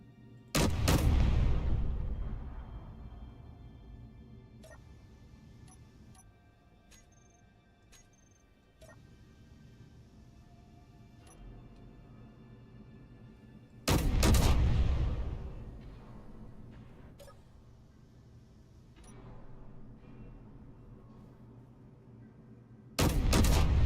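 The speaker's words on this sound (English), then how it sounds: "the Gatling turret does damage light armor, but not particularly fast" A Gatling turret fires in the video game Space Engineers, unleashing three loud, dense bursts of rapid gunfire separated by long quieter gaps filled with lingering rumble and scattered sharp clicks and impacts.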